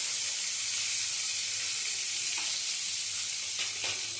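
Baim eel fish sizzling as it fries in hot oil in a pan, a steady, dense crackling hiss running throughout with a few brief louder pops near the end, no voices.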